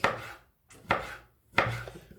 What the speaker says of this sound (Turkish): Şimdi doğramaya önce başlıyorum. Çok küçük doğramamız gerekiyor.